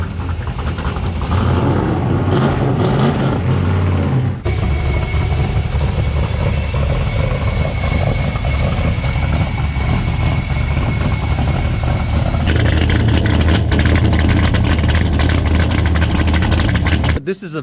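Loud engine of a non-Japanese car, running steadily throughout at close range, with a heavy low rumble and a shift in tone partway through; a voice talks over it.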